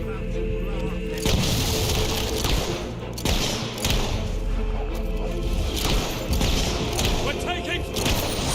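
Mortar blasts and battlefield crashes in Fable 3, loud repeated booms and rumbling impacts with game voices talking over the din.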